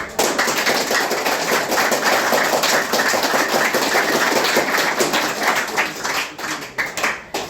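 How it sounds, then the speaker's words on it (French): Loud, dense applause for an adviser at a school celebration, many hands clapping close and continuously, staying strong throughout and tapering slightly in the last second. "je vous demande un grand honneur d'applaudissements"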